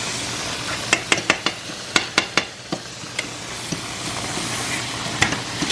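Food is stirred in a non-stick pan on an electric stove: a soft sizzle runs throughout while a utensil taps and scrapes against the pan in a quick burst of clicks, then a few scattered knocks.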